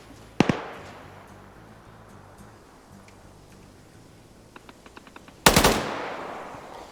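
Gunfire in a military PvP convoy game match: a sharp close burst early on, a few faint scattered pops far off, then a louder rapid volley near the end, over quiet ambient background with no talking.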